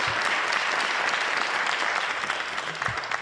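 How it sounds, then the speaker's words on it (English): An audience at a Detroit press conference claps in sustained, dense applause, loud and steady from start to finish with no speech over it. "Can we give a round of applause for everybody?"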